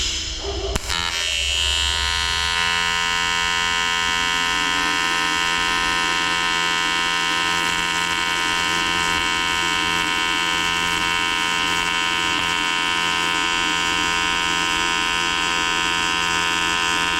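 A Yeswelder TIG 200P runs in AC mode on aluminum, giving a steady, close, loud buzzing hum that holds unbroken after a brief start, with no talking.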